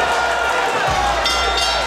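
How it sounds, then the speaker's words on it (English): Boxing crowd roaring and cheering after a bout, a dense, sustained wash of voices with a commentator's voice over it. "Listen to the crowd, it's going absolutely bananas."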